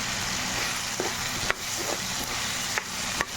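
Mulakkaya pappu charu, a South Indian drumstick and lentil stew, being stirred in a pot: a steady bubbling simmer runs throughout, with a few soft spoon knocks against the pot at irregular intervals.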